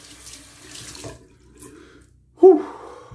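Cold water runs from a tap while someone rinses after a straight razor shave in a home without power. A soft, steady flow is broken by a pause, then a louder, close splash of hands in the stream.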